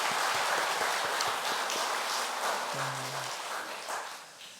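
A church congregation claps at an Easter Sunday service, a dense, steady wash of applause that fills the room and slowly thins toward the end.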